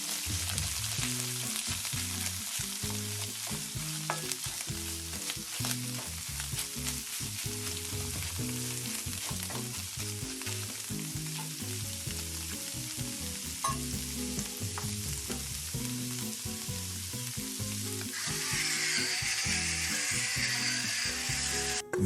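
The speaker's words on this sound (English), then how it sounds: "Place tuna on your frying pan, add half a teaspoon salt and black pepper." Tuna sizzles and crackles steadily in a hot frying pan, with intermittent scraping and stirring sounds; the frying grows slightly louder near the end.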